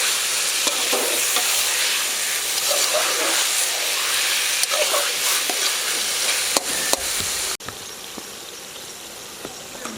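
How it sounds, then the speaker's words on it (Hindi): Grated pumpkin (petha) for halwa frying in oil and stirred, a loud, dense, continuous sizzle and hiss with repeated scraping stir strokes, close up, dipping abruptly for a moment near the end before carrying on. "मुझे भूनते हुए इसे 8 से 10 मिनट हो गए हैं"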